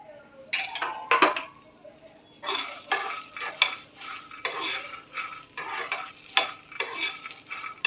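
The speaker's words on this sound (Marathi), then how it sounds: "तवा गरम झालेला आहे आपण तुरीचे दाणे भाजून घेऊया" Dry scraping and rattling as pigeon pea seeds are stirred on a hot griddle, coming in repeated bursts with a faint sizzle.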